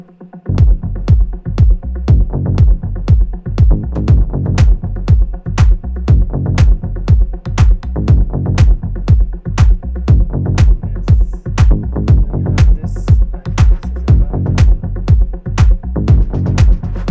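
A harp-like synth pattern played on a Moog Sub 37, layered over a steady kick drum, runs loud and continuous with rapid plucked notes in a driving rhythm and no talk.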